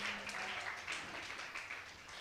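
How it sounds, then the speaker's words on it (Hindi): Faint, continuous clapping from an audience at a religious discourse gathering, a soft even patter of many hands in the distance, with a faint low hum underneath. "और ताली लगातार बजती रहे।"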